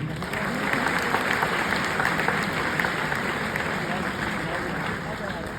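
A crowd applauds steadily, a dense, continuous wash of clapping that stays even throughout.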